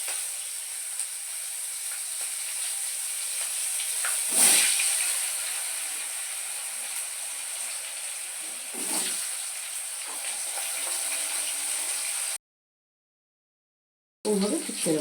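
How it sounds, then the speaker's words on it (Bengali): Potatoes are dropped into hot oil tempered with five-spice and green chilli, giving a steady bright sizzle with two louder bursts as pieces hit the oil, then a brief silence before frying resumes. "এবার আমি আলুগুলো ছেড়ে দিলাম।"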